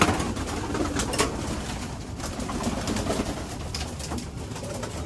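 Breeder pigeons coo softly and repeatedly nearby before bathing, their low throaty calls overlapping amid light fluttering and outdoor ambience.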